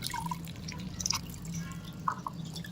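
Enoki mushrooms are rinsed in clean water, giving quiet drips and light splashes over a soft, steady background hum.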